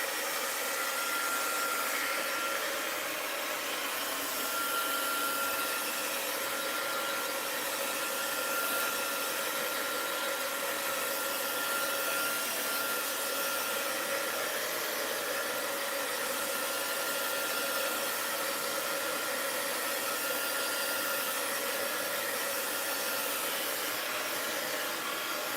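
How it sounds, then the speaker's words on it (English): A heat gun blowing steadily over damp paper, a constant loud whooshing hum of hot air that holds at one even level throughout without pause. "Let's hit it with the heat gun."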